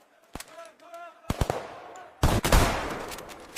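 Machine gun fire in an army-versus-police battle scene: short sharp bursts and single shots, growing into a loud rattling volley, with a voice heard briefly at the start.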